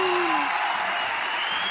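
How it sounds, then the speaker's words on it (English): Brief burst of crowd applause and cheering at a women's King of the Court beach volleyball match in Hamburg after a long rally, steady and fairly loud, with a commentator's voice over it. "The crowd love it."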